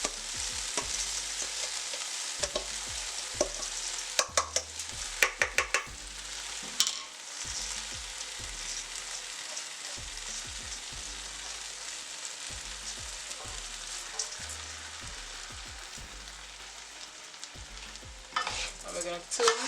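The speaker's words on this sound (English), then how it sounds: "We're gonna add 3 cups of long grain rice that has been washed." Washed long grain rice sizzles and fries in a pan, with repeated scraping stirs of a utensil breaking up the steady crackle at irregular intervals.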